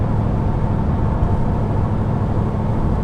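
Steady road noise and engine hum from a vehicle on Nitto tires with a Dana 60 axle cruising along at constant speed, continuous and fairly loud with no talk.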